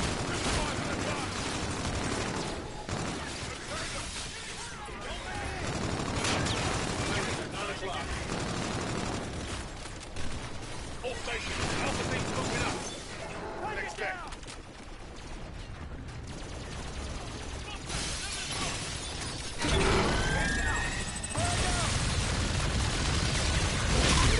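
Sustained automatic gunfire and explosions roar through a Call of Duty: Infinite Warfare campaign firefight, loud and nearly continuous with brief lulls, while voices talk over the combat.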